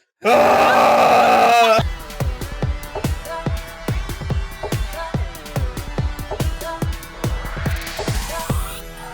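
A long, loud groaning yawn lasts nearly two seconds, followed by a run of sharp rhythmic plucked or struck musical notes.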